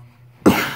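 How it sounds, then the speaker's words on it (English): A single sharp cough bursts out close to the microphone after a near-silent moment, loud and brief with a slightly rough tail. "Excuse me, I have a bit of a cough there."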